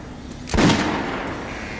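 One loud gunshot fires at a shooting range in Metro: Last Light, a sharp crack followed by a fading roar over a low background hum.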